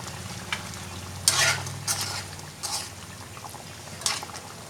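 Chili tossed into a pan of frying chicken for sweet and sour spicy chicken, with a steady sizzle and a few sharp bursts of spattering and stirring, close by and without talk.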